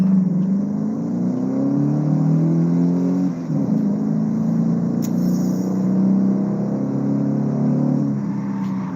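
A car driven in a racing game, its engine droning steadily with rising and falling revs, a loud continuous hum that dips briefly mid-way before carrying on.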